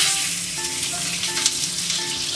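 Thick slices of fresh Spanish mackerel fry in a pan with a steady, close crackling sizzle, accompanied by a faint background hum.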